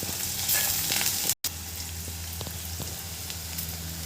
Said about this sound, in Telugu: ఆనియన్ మంచిగా ఫ్రై అవుతాయి.